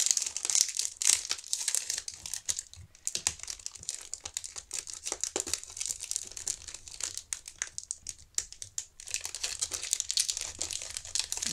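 Parchment-like paper wrapping a scrapbooking package crinkles and tears as it is opened by hand, a close, continuous rustle with sharper rips along the way.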